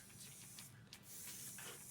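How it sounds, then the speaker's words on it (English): Spray paint hisses from an aerosol can onto a fake gold disc in a comedy series scene, a steady, faint, airy spray that runs for the whole two seconds with no talk. "So he's actually spraying a fake gold disc"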